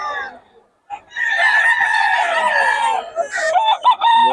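A Boston Sweater gamefowl rooster crows loudly and close, one long strained call followed by shorter broken bursts, alone with no talk over it.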